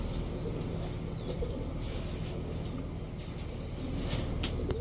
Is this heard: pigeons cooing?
yes